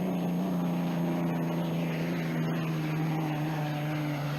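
A turbine hydroplane racing boat roars past during a 1984 heat in Madison, a loud sustained whine with a strong steady tone and broad rushing noise that holds throughout.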